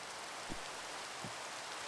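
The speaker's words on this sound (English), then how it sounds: "it is still raining, so the monsters won't despawn, and possibly more of them will spawn" Rain falling steadily in the Minecraft video game, a soft continuous hiss with two brief low thumps partway through, no voices.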